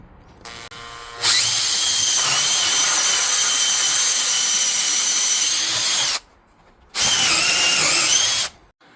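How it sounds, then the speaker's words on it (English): A power drill with a 1-inch hole saw cuts through a door in a long, loud, steady whine of about five seconds. After a short pause comes a second burst of nearly two seconds. "Now we can go back to the same one we used to drill through the door earlier, the 1-inch hole saw,"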